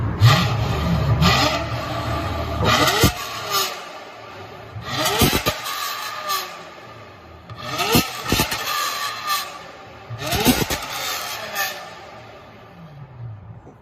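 A Toyota Century V12 with an aftermarket exhaust revs hard four times, each blip rising to a loud rasping peak and dropping back to a low idle.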